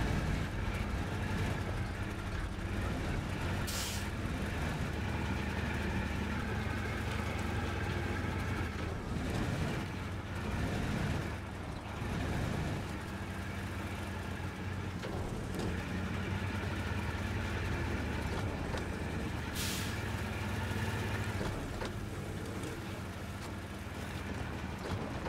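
Engine of a ZIL-130 truck hauling short logs in SnowRunner, a steady low droning rumble that labors continuously, with occasional sharp clanks and knocks over the top.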